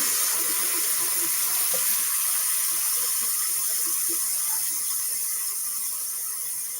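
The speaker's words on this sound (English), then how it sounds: "let's get some cold water" A kitchen tap runs cold water into a small bowl, a steady hiss of flowing and splashing water with faint clicks underneath, continuous and fairly close.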